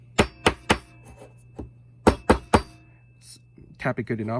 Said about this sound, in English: Then you use like a hammer. You tap it good enough.